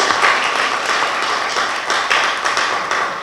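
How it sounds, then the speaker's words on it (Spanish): Steady applause from an audience at an international conference on the French judicial system, a dense, even patter of many hands clapping throughout without pause. "Vamos a despedirla con un fuerte aplauso"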